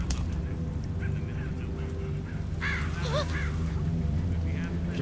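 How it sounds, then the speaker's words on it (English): Several honking, goose-like bird calls sound in The Walking Dead Season 2 video game, a short burst of wavering cries partly buried under a loud, dense background rumble. "Just birds."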